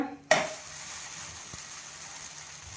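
A sweet wheat flour pancake (dhirde) is flipped into the pan on a gas stove and sizzles steadily and close, starting with a sharp hiss followed by even frying noise.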